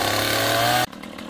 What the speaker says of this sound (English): It's kind of a tricky angle to get the chainsaw in here, so he's taking it slow and being as careful as possible.